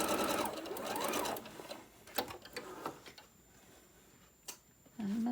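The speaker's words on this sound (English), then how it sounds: "you're going to sew a seam straight across" Domestic sewing machine stitching a straight seam across tote bag lining, a brief fast mechanical whir at the start, followed by quieter clicks, handling taps and fabric shuffling.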